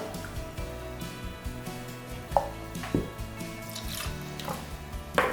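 Half a cup of water poured into a bowl while making lactose-free whole-wheat pancake batter, with faint splashes, drips and small clatters that come close and soft, and no talk.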